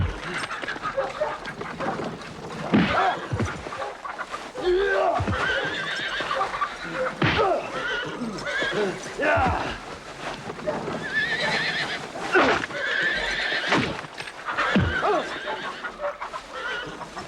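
Horses whinny and neigh repeatedly while hooves clip-clop close by in a Western cowboy film scene, with people talking over the animal sounds.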